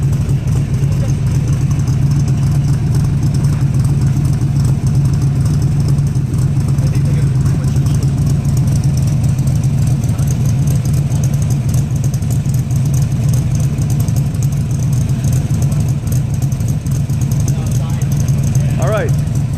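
A 1965 Cobra engine idles cold while warming up, with a steady, deep, rumbling drone that holds for the whole stretch. People talk over it.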